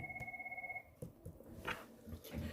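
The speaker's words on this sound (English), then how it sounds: "somebody's phone is ringing" A phone rings with a steady pulsing electronic trill for about a second, then stops, followed by faint shuffling and soft indoor noise.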